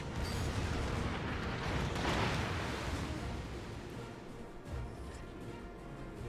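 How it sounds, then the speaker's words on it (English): Naval guns firing at a target in the warship combat video game World of Warships: a continuous heavy rumbling roar of distant cannon blasts, fairly faint and blending together without clear separate shots. "All stations, concentrate fire on the target."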